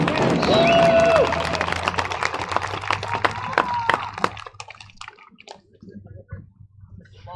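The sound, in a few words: crowd applause at high school football game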